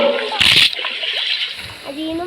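A loud, brief water splash from swimming in a video game, with a short burst of splashing at the start and someone talking over the game sound.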